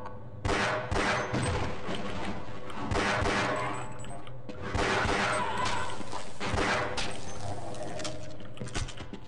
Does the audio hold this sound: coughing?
no